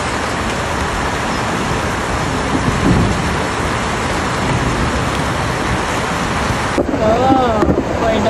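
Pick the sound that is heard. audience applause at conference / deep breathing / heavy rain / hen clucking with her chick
heavy rain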